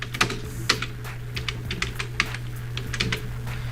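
Someone types steadily on a computer keyboard, producing a close, continuous run of crisp keystroke clicks with a few louder taps, over a low steady hum and with no talking.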